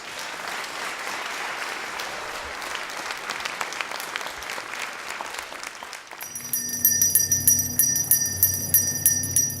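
A Salvation Army Red Kettle bell rings loud and close, a rapid rhythmic clanging that begins partway through after a stretch of crowd applause.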